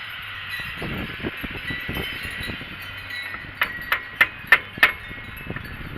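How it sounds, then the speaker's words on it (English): A hammer strikes a brake pin through the rear caliper of a Mercedes E430 W210: five sharp metallic taps in a steady rhythm, close and clear over a low background hum. "That way you can tap that brake pin through there."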